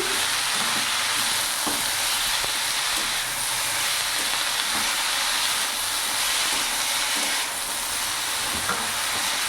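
Fenugreek greens are stirred and fried dry in a pan with no water, giving a continuous loud sizzle with scraping stir strokes recurring through it.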